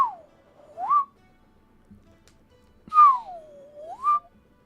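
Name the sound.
whistling recorded through a robotic-sounding filter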